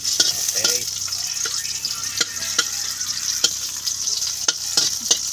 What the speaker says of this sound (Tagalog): Gigisahin muna.